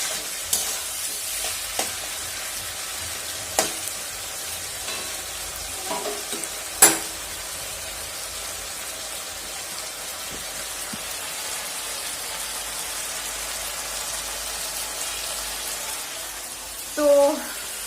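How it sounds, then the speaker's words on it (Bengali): Masala frying and being stirred in a home kitchen pan, a steady low sizzle running throughout with occasional spoon clacks and scrapes, and a louder knock near the end. "এবার এটাকে সম্পূর্ণ একসঙ্গে মিক্স করে মশলাটাকে কষানো হবে।"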